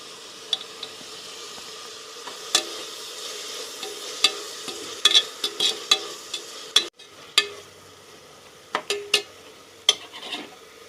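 Chopped tomatoes are stirred into onion and ginger-garlic paste frying for vegetable biryani, a quiet sizzle under repeated sharp spatula scrapes and taps against the pan, irregular and close; no speech.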